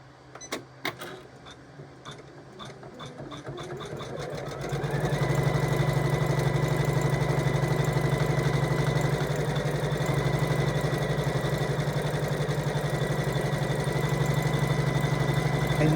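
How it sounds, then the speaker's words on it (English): An embroidery machine starts with a few clicks, then runs up to a fast, steady mechanical whir while sewing a zigzag stitch around green appliqué pieces on a quilted table runner. "this next part of the design is going to put a zigzag stitch around each one of those green pieces as well, just to secure them"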